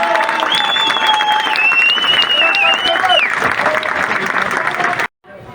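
Crowd applause at a political campaign launch event for a mayoral candidate in Dikili, loud and continuous with a sustained whistle-like tone over it, cutting off abruptly near the end.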